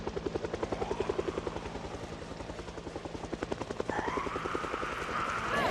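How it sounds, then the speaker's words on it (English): Helicopter in a zombie survival video game, steady rapid rotor thumping that holds close and loud, growing slightly stronger partway through as it passes overhead, with no talking. "It's a forever heli."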